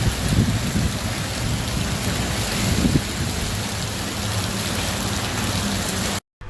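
Heavy rain pours down steadily on a street in Bulukumba, a dense, loud roar of drops with a faint low rumble beneath, cutting off abruptly near the end.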